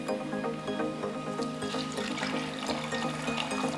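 Water poured into a pan of fried spices while cooking Bengali rui fish curry, a steady trickling, splashing pour heard close and continuously for a few seconds with no talk over it.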